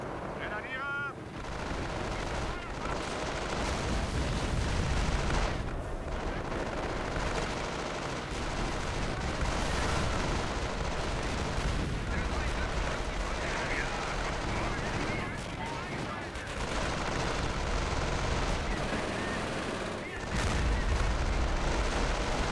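Dense battlefield gunfire with machine-gun bursts and heavy explosions fills a Company of Heroes Blitzkrieg Mod skirmish, a loud, continuous wall of combat noise that runs throughout while someone talks over it.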